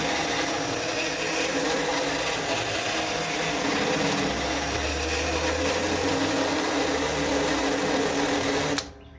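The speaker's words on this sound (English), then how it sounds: "I use a carbide burr kit bit" A carbide burr bit grinds a hole larger in a mower body while a 48V LiFePO4 battery is fitted into a Ryobi RM300E, a continuous close high whine that stops abruptly near the end.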